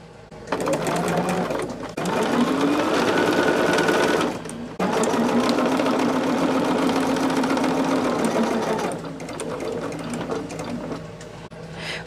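A sewing machine stitching quilt block rows together runs in steady, close whirring bursts, pausing briefly twice before carrying on, with a low mechanical hum throughout.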